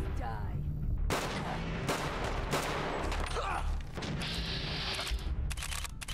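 Heavy gunfire in Fallout 4 during a wasteland fight: dense, continuous bursts of loud shots with several sharp reports standing out, filling the whole clip at close range.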